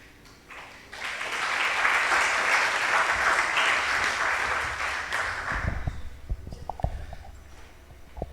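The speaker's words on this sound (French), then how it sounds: "On applaudit, c'est fait," An audience applauds at a round-table panel on the mental side of the coach-athlete relationship: dense, steady clapping swells in after a moment, holds loud for several seconds, then fades into scattered knocks and shuffling.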